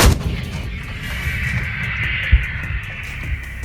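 Artillery firing near Bakhmut and Chasiv Yar: a sharp, loud blast at the start rings into a long rumbling decay, a second heavy thud lands partway through, and a steady hiss sits underneath.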